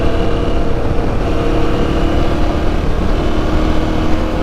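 Continuous loud engine and wind roar from a motorcycle on an off-road ride, steady throughout with no clear pass-by swell, heard close up without talk.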